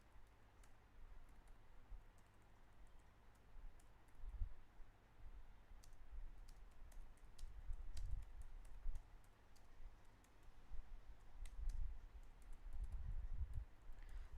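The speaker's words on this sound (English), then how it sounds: "So the first question I'm typing here." Soft clicking of keys being typed on a computer keyboard, fairly faint and irregular, with bursts of quick taps and short pauses and no voices.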